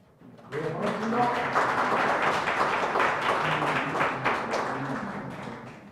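Audience applause at a Korean seminar on small-business job policy, greeting a Democratic Party National Assembly member; steady clapping from a room of people with some talk mixed in, fairly faint overall.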